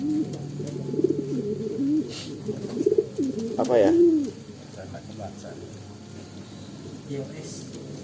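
Racing pigeons from Tasikmalaya, Indonesia, coo in low, soft rolling phrases close by, mixed with someone talking and some background noise.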